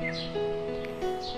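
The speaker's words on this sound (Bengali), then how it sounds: "পাখির ডাক" Cartoon bird calls in an animated Bengali children's story, a few short high chirps and tweets rising over a steady, soft musical drone, fairly quiet.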